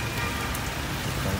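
Rain falls steadily in Baguio City, an even hiss of drops striking surfaces nearby at moderate level, with no voices.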